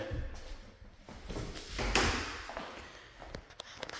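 A sliding door in a house is worked open and closed, giving rolling, rumbling glides along its track with a few knocks and clicks, one sharp bump near the middle, and some background noise.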